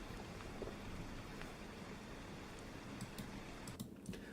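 Steady copyright-free rain sound effect: a dense, even wash of falling rain with scattered faint drips and ticks, continuous and moderately quiet throughout.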